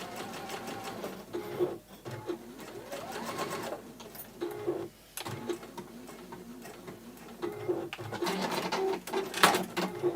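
A sewing machine stitching fabric in uneven bursts of rapid mechanical ticking, stopping and starting repeatedly, close and moderately loud, with faint bird-like chirps in the background.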